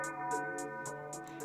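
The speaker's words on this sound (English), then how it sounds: "I found this tubular bell right here." A tubular bell sample pitched far down, sounding as a dark sustained drone with steady low tones and a rhythmic bright hiss pulsing about every quarter second on top, no voice.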